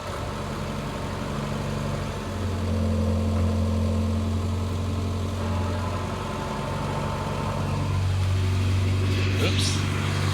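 A Morris Minor car engine idling steadily and close by, a low, even rumble that holds for the whole stretch with slight shifts in pitch, with some voice faintly present.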